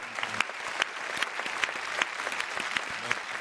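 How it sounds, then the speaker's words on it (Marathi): A studio audience claps for the composer and singer on a Marathi TV music show, producing steady, moderately loud applause with sharp individual claps standing out across the whole stretch. "त्या गाण्याच्या संगीतकारासाठी, गायकासाठी एकदा जोरदार टाळ्या होऊनच जाऊ."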